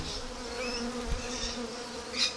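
Honey bees from a newly installed backyard hive package buzz steadily and close up, a continuous droning hum with a few louder passes near the end, with no talking.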